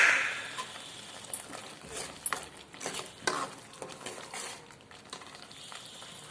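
Nellore-style village fish curry (chepala pulusu) frying in oil, heard as a quiet, continuous sizzle broken by irregular scraping stirs of a spoon against the pan.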